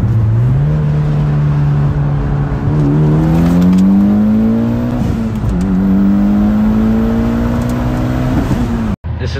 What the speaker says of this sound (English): this is gonna be a second gear pull